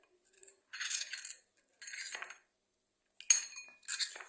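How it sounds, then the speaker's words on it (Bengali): A spoon scraping and clinking against a metal or glass bowl while turmeric and chili powder are stirred into water, in four short bursts of quick, close, bright tinkling and scraping separated by silences. "আমি হলুদ আর লঙ্কার গুঁড়াটাকে আমি এখানে এইভাবে জলের মধ্যে মিশিয়ে নিলাম"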